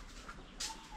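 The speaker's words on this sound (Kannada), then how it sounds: "ಪಕ್ಷಿಗಳ ಸೌಂಡು ಕೇಳಿಸ್ತಾನೆ ಇದೆ. Different kind of birds." Birds calling in a coffee plantation at Yercaud, a faint short pigeon coo with a brief higher chirp, distant and quiet.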